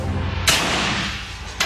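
A suppressed AK-47 rifle fires two shots about a second apart, each a sharp close crack followed by a long rumbling tail, loud and alone without talk.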